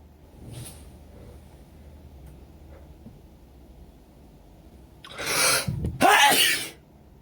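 Allergy sneezing from an itchy nose: a faint early sniff, then two strong close sneezes near the end, the second the loudest, with quiet room tone between.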